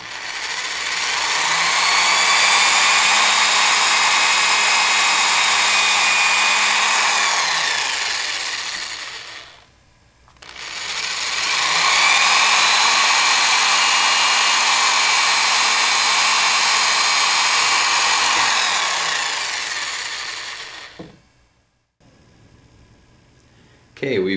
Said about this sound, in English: Now we're going to drill.